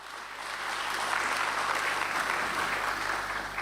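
A crowd at a stock exchange listing ceremony applauds steadily, a dense, sustained wash of many hands clapping at even loudness for several seconds.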